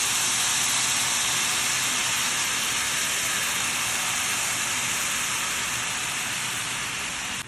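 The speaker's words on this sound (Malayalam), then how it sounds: "തേങ്ങ ഇട്ട് കൊടുക്കുന്നത് നമുക്ക് ശർക്കരപ്പാൻ ഒഴിച്ച് കൊടുക്കാം" A broad, steady hiss holds at loud, even strength without a break as jaggery syrup is poured into a pan of coconut.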